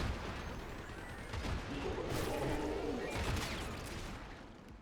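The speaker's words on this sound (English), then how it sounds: "can we calm down on the explosions?" Explosions and gunfire in the video game Warframe, a dense continuous barrage of booms and rapid shots rolling together at steady loudness.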